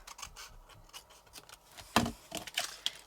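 Paper for a handmade card is trimmed with scissors in a series of soft, close snips and rustles, punctuated by a couple of sharper cuts near the end; quiet, with no talking.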